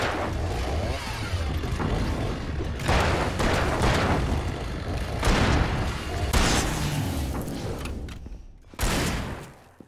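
Loud, dense game-combat noise from Alan Wake, with a flashbang detonating among repeated bursts and booms, then a sharp, strong blast near the end.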